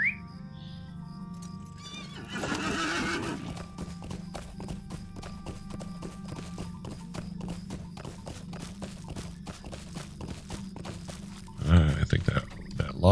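A horse in Lord of the Rings Online neighs loudly as its hooves start a steady, rapid clip-clop rhythm that runs throughout, ending in a louder snort or whinny near the close.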